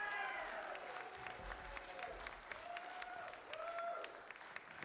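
An audience applauds a chorus after their concert, moderate and somewhat distant clapping with a voice speaking over it.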